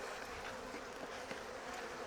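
Honey bees buzz in a steady, dense drone across a hive frame of wax foundation, close and continuous with no talk over it.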